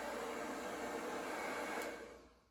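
A blow dryer pushes wet poured paint across a 20x20 canvas in a Dutch pour, making a steady, close, loud airy roar that holds evenly and then tapers off as it switches off.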